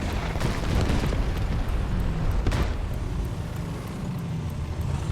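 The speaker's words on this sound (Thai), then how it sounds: "อ่ะเพื่อนเราทิ้งระเบิดไปละ" Heavy bombs go off in a War Thunder battle. A continuous loud rumble and roar runs throughout, with a few sharper blasts punching through the dense noise.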